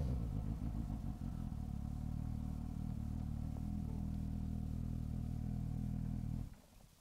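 A Triumph Street Triple 660S motorcycle engine idles with a heavy, steady rumble close by, then cuts off abruptly near the end.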